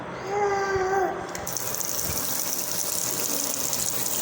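Water runs from a sink tap as a child washes hands, a steady splashing gush that starts abruptly after a brief voice and continues at moderate level.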